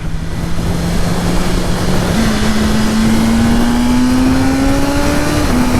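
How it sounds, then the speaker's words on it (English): A 2023 BMW M1000R motorcycle accelerating in fourth gear, with the exhaust valve opening: a loud, continuous engine drone rising steadily in pitch, with a small step up partway through under wind rush. "It's like the exhaust valve opens up."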